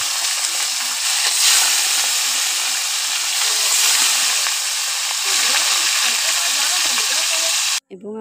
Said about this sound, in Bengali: গরম তেলে রোস্টগুলো ভেজে নিচ্ছি